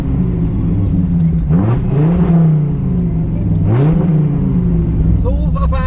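A show car's engine catches and idles with a steady low rumble, rising in two brief revs partway through, heard close up with people talking over it.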